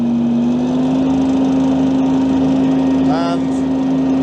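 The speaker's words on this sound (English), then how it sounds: "I've put the deck up high, full revs, engage my flail" A Kubota FC3 261 ride-on mower runs at full revs with the flail engaged, a steady droning tone close by, briefly overlaid near the end by a short high whine or squeal.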